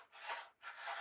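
Rhythmic scraping strokes of a wooden arrow shaft being sanded or rasped, two long passes with a short pause between, fairly close and steady.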